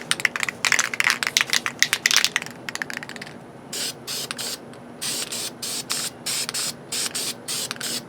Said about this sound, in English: I'm just kind of misting the stencil really.